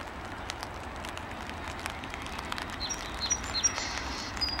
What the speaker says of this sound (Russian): Птичка, ты мне песенку поешь.